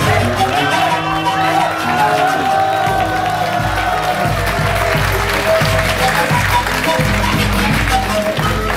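Audience at a live comedy show applauding and cheering loudly and continuously, with a dense wash of clapping, whoops and shouts filling the whole stretch; voices shout over the crowd.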